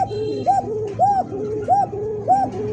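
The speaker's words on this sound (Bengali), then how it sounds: "দেখছেন এটা মাদি কবুতর।" A female pigeon on a pigeon farm cooing close by, four evenly spaced rounded coos about half a second apart over a low background hum.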